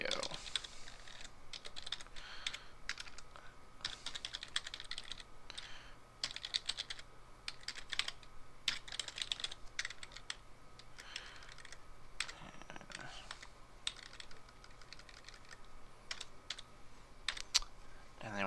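Fingers type steadily on a computer keyboard, giving a fast, continuous patter of close key clicks with occasional brief pauses.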